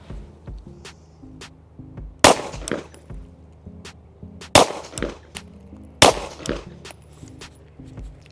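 Firearm shots ring out at a shooting practice range, three loud sharp cracks spaced a couple of seconds apart with fainter distant pops and clatter between them.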